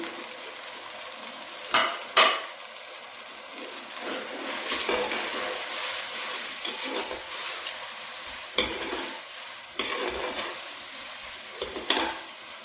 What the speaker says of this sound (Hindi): दो तीन मिनट भूनना है इसको।